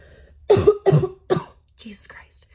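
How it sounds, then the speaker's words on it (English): A person recovering from a cold coughs three times in quick succession, close and loud, with a softer throaty sound trailing after. "I'm sorry that I just coughed like that"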